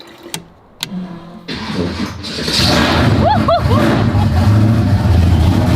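Big block Ford Mustang engine cranking briefly and then firing up into a loud, rumbling idle that holds steady, heard close, with a few clicks before the start and a voice speaking over it.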